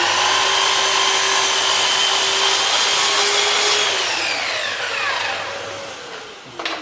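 A Festool Kapex miter saw makes a square cut through MDF, with a loud, steady motor whine for about four seconds before the blade spins down and fades.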